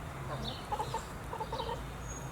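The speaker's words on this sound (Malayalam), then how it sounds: "കോഴികളും വന്നിട്ടുണ്ട്." Chickens cluck in short bursts at an outdoor home setting, a few soft calls repeating in uneven clusters over a steady low background hum, with no talk.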